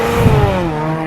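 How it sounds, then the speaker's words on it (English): A car engine roars steadily at close range, its pitch sliding slightly downward as it passes, with a brief tire-like squeal early on. "Now here's those same clips with engine sounds."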